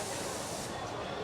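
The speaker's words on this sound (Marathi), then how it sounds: "आता ही सुरमई मुरवत ठेवली होती, आता ही मी फ्राय करत आहे." Surmai fish coated in semolina sizzles in hot oil, a dense, steady frying hiss that fills the whole moment without pause.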